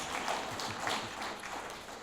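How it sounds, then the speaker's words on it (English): A council meeting audience applauding after a motion passes, a brief, fairly faint wash of steady clapping with no clear individual claps standing out. "that did deserve a clap"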